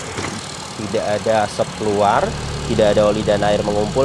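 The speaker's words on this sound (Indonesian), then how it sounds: "Dan ini suara mesinnya halus, standar, normal, tidak ada suara-suara kasar." The 1500 cc i-VTEC engine of a 2013 Honda Freed E PSD facelift idles smoothly and evenly, a soft low hum running steadily beneath someone speaking close by.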